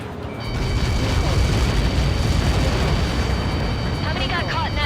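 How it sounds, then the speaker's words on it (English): A massive explosion in the flight combat game Ace Combat 7 roars as a sustained, loud rumbling blast with crackling debris, and a voice speaks briefly near the end. "How many got caught in that explosion?"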